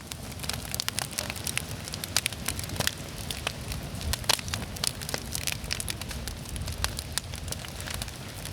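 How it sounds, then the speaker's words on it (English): Wood fire burning in an outdoor fire pit, crackling and popping steadily with sharp irregular snaps over a continuous low rush, close and fairly loud, no voices. "The fire fills the air with warmth, smoke, and crackling sounds for us to enjoy."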